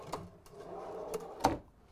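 A full extension drawer slides open or shut in the galley of a 2020 Prevost H3-45 motorcoach, making a few short soft thumps and rolling slides over about two seconds.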